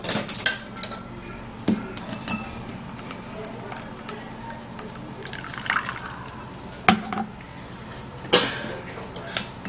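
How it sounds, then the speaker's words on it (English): Homemade cucumber juice is poured and strained through a sieve into a bowl, giving a steady liquid trickle and drip with scattered clinks of utensils against the dishes, close by and fairly clear. "I would love to sieve it into this bowl"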